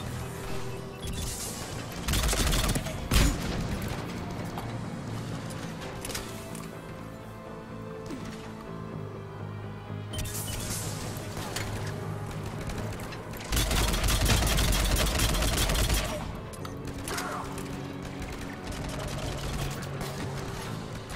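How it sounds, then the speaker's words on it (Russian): Bursts of automatic gunfire and scattered shots crackle through a Mass Effect 3 firefight at a Cerberus fighter base, with heavier volleys near the start and middle over continuous battle noise. "Такое ощущение, что в меня стреляют со спины откуда-то."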